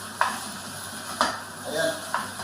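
Bird's-eye chillies in coconut milk sizzle in a pan while being stirred, with three distinct scraping strokes spaced about a second apart over a constant close frying hiss.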